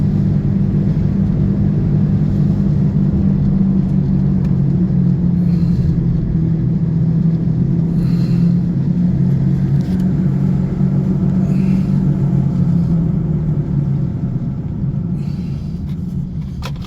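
A Chevrolet Monte Carlo SS that will not shift gears rumbles while being driven. Its loud, steady low drone continues without a break and eases off slightly near the end, with no talking.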